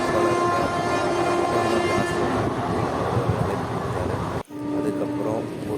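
A moving passenger train heard from a window seat: a loud, continuous rumble of wheels and carriage with a steady tonal hum and a brief dip near the end.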